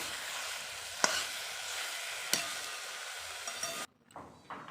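Fresh leafy greens (gima shak) are stirred while frying in a pan, with a continuous soft sizzle and a couple of sharp spatula knocks before the sound cuts to quieter clatter.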